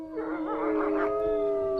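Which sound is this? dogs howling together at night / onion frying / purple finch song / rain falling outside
dogs howling together at night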